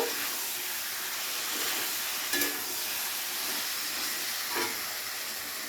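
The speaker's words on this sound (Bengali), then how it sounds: "এবারে মশলাটাকে দিয়ে একটু কষিয়ে নেব।" Spice paste for a thin katla fish curry fries in a pan with a steady soft sizzle and hiss, broken by a couple of faint stirring scrapes.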